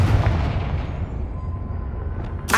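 A Confringo blasting spell explodes in the Hogwarts Legacy video game, making a dense low rumbling boom that rolls on and then gives way to a sharp burst near the end.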